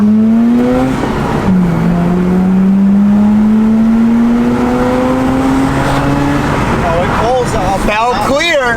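Engine of an abandoned 1.3-litre sports car pulling hard, its note climbing steadily before dropping and climbing again through the gears, loud and close, with people talking over it near the end.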